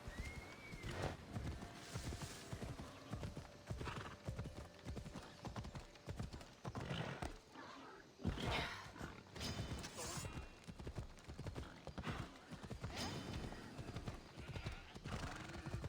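Horse hooves clip-clop steadily in Assassin's Creed Odyssey, a continuous rhythmic trot with an occasional whinny, mixed with game ambience and a voice talking now and then.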